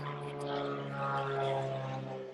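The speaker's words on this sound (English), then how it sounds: "Come on, airplane" A propeller airplane flies overhead in the countryside, a steady droning engine hum with strong tonal harmonics that holds level throughout, fairly loud and alone with no talk.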